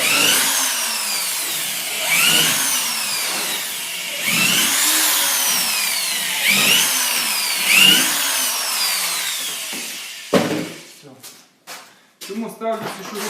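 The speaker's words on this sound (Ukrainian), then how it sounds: "Спочатку проходжусь тут шурупами з цього боку." A power drill drives screws one by one into a wooden beehive body, several rising whirring bursts in a steady rhythm, loud and close, ending in a few sharp knocks and clatters.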